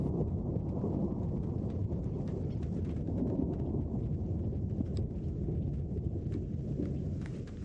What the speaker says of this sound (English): thunder would start to our right and then do a rolling rumble all the way to our left